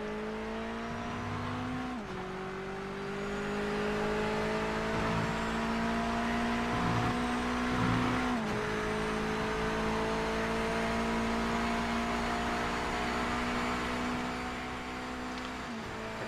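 A Mazda MX5 race car engine in the Project Motor Racing video game holds a steady, droning high rev. The pitch climbs slowly, with brief dips at gear shifts, and it runs loud and constant with no talk.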